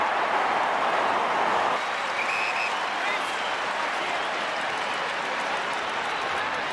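A large crowd at an Australian football match roars and applauds after a goal by Adelaide Crows player Robert Shirley, a loud, sustained wash of cheering that eases slightly partway through, with a commentator talking over it.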